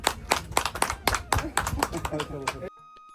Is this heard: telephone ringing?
no